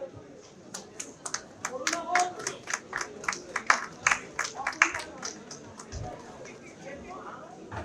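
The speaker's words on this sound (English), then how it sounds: "Students applaud." Students clap at a university convocation ceremony, a burst of hand claps that swells and fades over several seconds as the crowd applauds between name readings.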